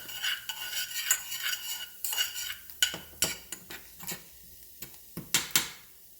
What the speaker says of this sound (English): And you're going to stir this and incorporate it.